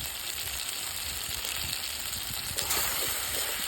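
Marinated spiny catfish (shing fish) frying in hot oil, giving a dense, continuous, close sizzle that swells slightly near the end.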